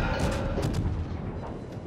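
Heavy booming warship gunfire from a cruiser in World of Warships, several dense blasts in quick succession with rumbling low end, loud and continuous.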